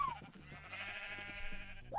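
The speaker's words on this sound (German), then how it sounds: "Und ich habe pinke Schafe." Sheep bleating in Minecraft, several short repeated bleats over a steady background music bed, moderately loud with one sharper bleat near the end.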